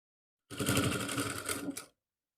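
A sewing machine runs in one steady burst of rapid stitching, close and fairly loud, while stitching a kurti shoulder strip for a suit. It starts and stops abruptly, with no talking.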